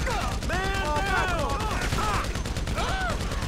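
Gunfire in the online mode of the video game Grand Theft Auto V, with rapid bursts of shots crackling through a busy game mix under overlapping speech.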